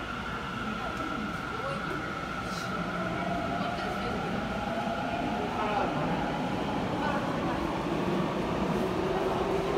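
A Tokyo Metro Fukutoshin Line S-TRAIN pulls into Ikebukuro Station with a rising electric motor whine and steady rolling rumble. A platform announcement voice continues over the train throughout.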